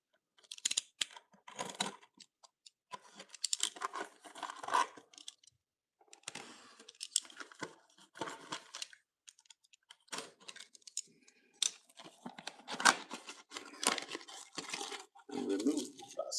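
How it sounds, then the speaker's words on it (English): Plastic wrap crackles, tears and crinkles in uneven bursts as it is peeled off a box of Upper Deck 25/26 Extended series trading cards, close up with brief pauses between tugs. "I need to open the plastic first."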